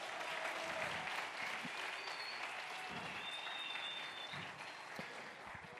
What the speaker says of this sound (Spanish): Un aplauso por eso, pues, chicos